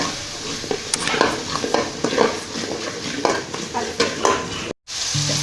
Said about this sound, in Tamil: அந்த விழுதை ஃபஸ்ட்டு எண்ணெயில் சேர்த்திக்கலாம்